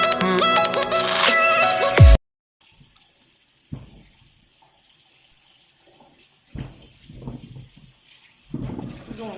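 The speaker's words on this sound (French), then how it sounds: "on lave soigneusement ces légumes" Leeks and other soup vegetables rinsed under a running kitchen tap, a steady near stream of water for about two seconds that cuts off abruptly, followed by quiet handling sounds.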